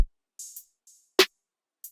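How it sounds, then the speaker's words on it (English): A few short, crisp hi-hat hits from an FL Studio R&B beat, including a slightly longer open hat sizzle, alongside one sharper percussive snap, sparse and fairly quiet. "Then we had this open hat."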